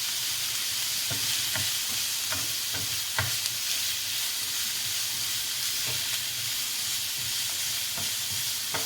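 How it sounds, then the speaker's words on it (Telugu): Carrots, green peas and chili sizzle steadily in a hot pan while being sautéed, with a constant frying hiss broken by repeated scraping taps of stirring. "క్యారెట్ పచ్చి బఠానీ చిల్లీ అన్నీ వేసి లైట్గా సాటే చేసుకోవాలి"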